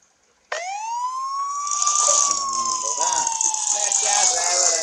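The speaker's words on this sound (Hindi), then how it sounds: "थोड़ा सायरन आरन बजा, बंदे भागे यहाँ से" A police car siren in a police chase video game starts abruptly and wails loudly, a sustained rising and falling tone with layered electronic warbling underneath.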